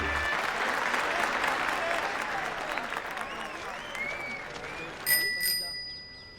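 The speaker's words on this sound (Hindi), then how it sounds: "घंटी बढ़िया है इसकी" A bicycle bell rings near the end with a few bright, quick dings, following a stretch of applause-like noise and voices.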